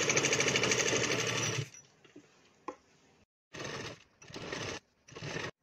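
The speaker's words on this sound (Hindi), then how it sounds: "यहाँ तक हम इसका कॉर्नर तक लगा लेंगे सिलाई सबसे पहले" Electric sewing machine stitching along the edge of a lehenga dupatta, a loud steady whir for over a second, then three more short bursts after quiet handling of the fabric.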